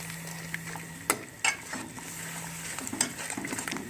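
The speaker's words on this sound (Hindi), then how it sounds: "अब हम इसे अच्छी तरह भून लेंगे।" Chicken with yogurt and spices being stirred and fried for a yakhni pulao, with a steady sizzle under sharp scrapes and clinks of a spoon against the pan.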